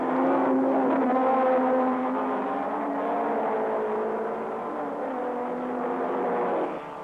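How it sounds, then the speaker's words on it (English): A field of 1959 sports racing cars led by an Aston Martin DBR1 pulling away at the start of a race, a sustained droning roar of many engines held at high revs, heard at a distance and gradually fading. "And when Sterling goes, they all go, although the flag's still up."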